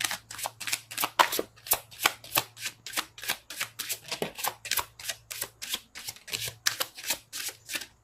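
Rapid, rhythmic riffle after riffle of tarot cards being shuffled up close, each burst crisp and evenly spaced, with no talking.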